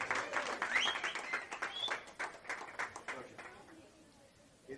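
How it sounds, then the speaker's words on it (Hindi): Audience at a cricket fan contest hosted by a radio station breaks into loud applause, dense clapping that swells early and tapers over several seconds, with a voice heard briefly over it. "एक बार जोरदार तालियां"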